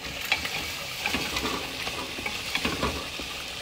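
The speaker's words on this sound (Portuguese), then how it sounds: "vamos fritar 1 minutinho" Sliced onion and chopped rosemary fry in a pan while being stirred, giving a steady close sizzle with scattered scraping stir clicks throughout, no voices.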